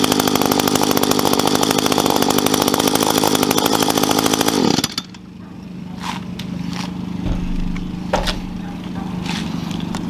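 An Echo SRM 210i two-cycle string trimmer engine with an i30 starter runs loud and buzzy for about five seconds, then cuts off abruptly, leaving a faint hum and scattered clicks.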